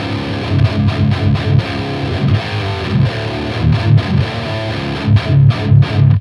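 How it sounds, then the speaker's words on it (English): Electric guitar pushed through an HM2 distortion pedal into a Neural DSP amp plugin, churning out a dense, saw-toothed chugging riff with rhythmic palm-muted bursts and brief gated gaps, loud and continuous with no voices. "I'm using Neural DSP plugin right here that sounds like this."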